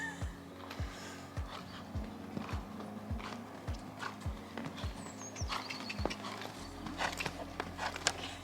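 A young horse walking at home, its hooves clip-clopping in a steady, even rhythm of distinct nearby thuds, with no talk over it.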